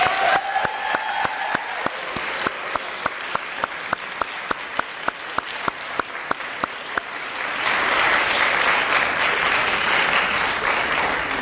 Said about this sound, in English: Big round of applause for Ms. West.